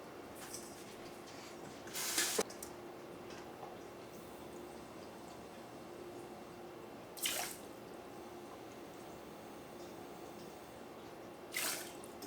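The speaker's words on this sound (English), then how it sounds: "so I'm going to put 2 cups of water in here" Water is scooped from a quarter-cup measuring cup into a pot of rice for stuffed peppers, giving three brief, separate splashy pours with quiet stretches between them.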